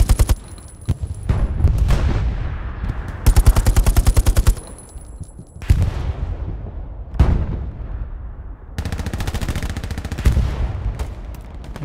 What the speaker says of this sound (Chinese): 机枪应该系呢边